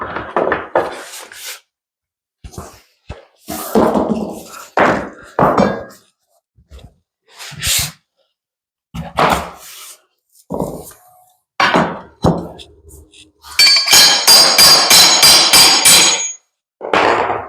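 Hammer blows tapping laminate flooring planks into place in a bedroom, bursts of sharp knocks and thuds separated by pauses, ending in a fast run of ringing strikes, with someone talking in between.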